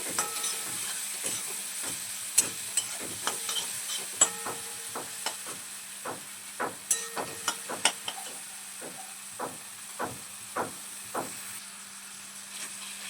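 Tomato and capsicum with salt fry in a pan for a capsicum paneer dish, a low steady sizzle broken by a long run of sharp, evenly spaced spatula taps and scrapes, close and without talk.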